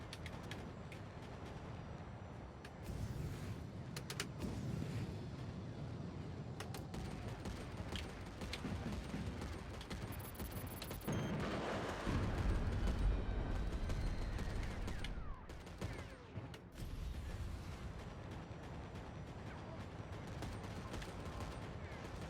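Heavy gunfire in the mech combat game Mecha Knights: Nightmare, a dense continuous barrage of rapid shots and booming impacts, loud and sustained with a big blast partway through and shouted voices mixed in.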